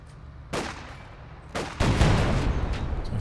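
An IS-2 heavy tank firing shells in Company of Heroes 2: two heavy booming shots about a second apart, the second followed by a rumbling explosion and lingering battle noise.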